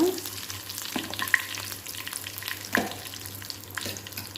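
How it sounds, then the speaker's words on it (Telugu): Curry leaves splutter and sizzle steadily in hot tempering oil for a tamarind-leaf chutney. The frying is close, with a few sharp pops and clinks over a continuous hiss. "కరివేపాకు చిటపట్లాడినాక"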